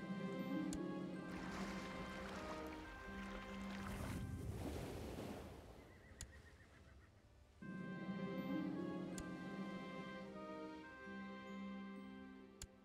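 Ships sailing on water in the strategy video game Crusader Kings 2, a steady wash of waves and creaking hull ambience under a soft layered musical drone, with faint clicks.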